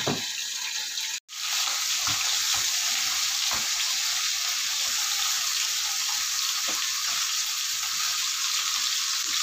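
Oil sizzles and hisses steadily in a frying pan as bakwan vegetable fritters cook, a dense continuous crackle broken only by one brief dropout near the start.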